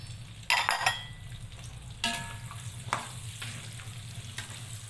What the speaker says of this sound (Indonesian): dengan minyak yang sama kita akan goreng bawang merah, bawang putih